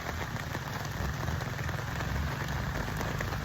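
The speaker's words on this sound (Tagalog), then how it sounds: "Nabutan kami ng ulan." Steady rain pours down during a ride, a dense, even hiss of drops striking surfaces throughout, with no voices.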